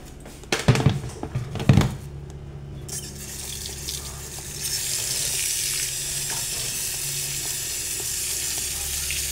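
Freshly stripped moringa (malunggay) leaves are rinsed under a running kitchen tap, a few loud clattering knocks up front giving way to a steady, close hiss of flowing water.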